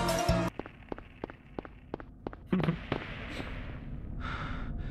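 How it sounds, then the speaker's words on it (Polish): Gunshots in the video game Silent Hill ring out as a string of sharp, evenly spaced reports in quick succession, followed by a rougher burst and a trailing noisy hiss. "Było słychać strzały."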